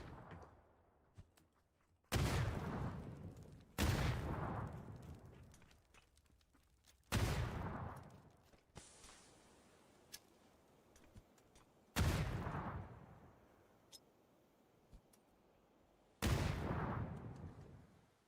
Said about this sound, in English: Oh, nice shots in the direction of Takis.